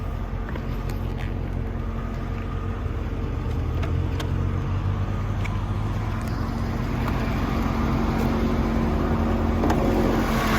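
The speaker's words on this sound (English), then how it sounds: "Let's take a look at the motor as it's running." Engine of a 1993 Corvette idling steadily with the hood open, a continuous low rumble with a faint even hum and no revving, heard up close.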